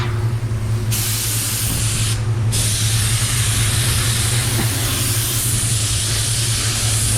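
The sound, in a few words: spray gun applying transition coat of paint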